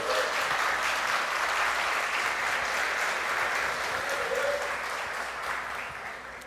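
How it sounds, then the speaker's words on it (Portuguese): A church congregation breaks into sustained applause during a Portuguese-language sermon. The sound is a broad, even wash of many hands clapping at once, moderately distant, then fading gently near the end. "Será que você pode aplaudir o Senhor aí por isso?"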